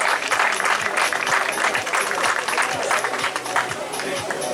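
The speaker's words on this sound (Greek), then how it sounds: "Πάμε να χειροκροτήσουμε τα παιδιά." A crowd applauds steadily and loudly at an outdoor trail-running race awards ceremony, sustained clapping filling the whole stretch as race winners are called up.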